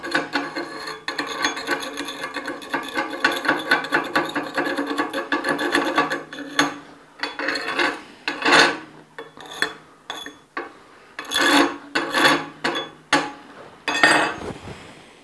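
An inverter welder arc sizzles and crackles up close, a rough continuous rasp at first that breaks into irregular bursts of spitting noise, with no talking over it.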